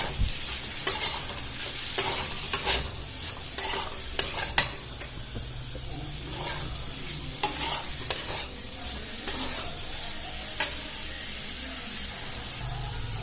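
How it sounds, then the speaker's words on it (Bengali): Potato and papaya pieces fry with turmeric in a constant close sizzle, punctuated by frequent sharp spatula scrapes and clanks against the pan as they are stirred. "এটা খুব ভালো করে ভেজে নেব, নাড়াচাড়া করে।"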